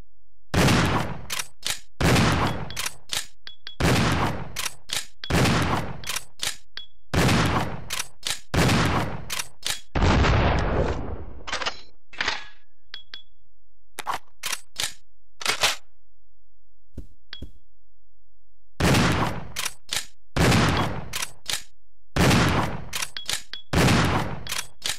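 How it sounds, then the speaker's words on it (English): Shotgun blasts in Resident Evil Zero HD Remaster, loud single booms fired one after another in quick bursts, with several brief pauses between volleys and no talking. "let's go ahead and test the shotgun out"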